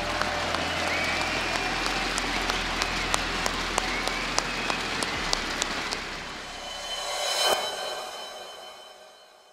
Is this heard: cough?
no